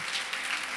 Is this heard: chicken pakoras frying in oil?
no